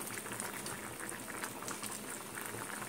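Chilli chicken sauce made with green chillies bubbles steadily in a pan, a close continuous wet popping and hissing simmer with no voices.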